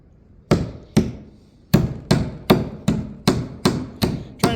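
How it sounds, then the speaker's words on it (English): A small hammer pounds on a wooden wagon part, eight sharp separate blows in a slow, slightly uneven rhythm, close and loud with short ringing decays between hits. "Trying to pound left-handed."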